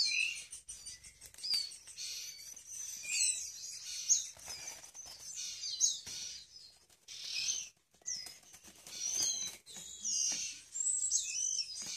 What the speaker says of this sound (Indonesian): Ini seperti biasa anakan ciblek gunung